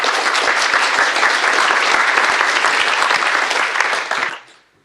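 Conference audience applauding after a talk on Python packaging, a dense, loud burst of many hands clapping that holds steady for about four seconds, then tapers off quickly into quiet.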